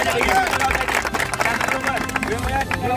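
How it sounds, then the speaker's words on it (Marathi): A crowd at a gathering claps enthusiastically, bursts of hand clapping mixed with loud nearby talking and general crowd chatter. "जोरदार टाळ्या झाल्या पाहिजे।"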